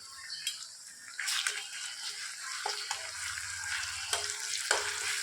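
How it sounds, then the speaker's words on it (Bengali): Garlic frying in a pan while fish cooks for a home-style pulao, a steady soft sizzle with a few sharper crackles and scraping stirs, close by and with no talking. "আবার রসুনটা দিয়ে দেবো"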